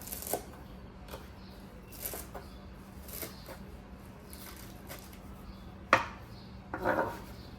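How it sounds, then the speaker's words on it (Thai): A knife taps a cutting board in sparse, uneven chops through celery stalks, soft and close, with a couple of sharper clinks near the end and no talking. "หั่นต้นขึ้นช่ายนะคะ"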